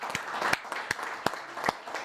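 Sparse, scattered clapping from a small audience at a veterans salute event in Ludlow, Vermont, with distinct individual claps spaced irregularly and fairly faint.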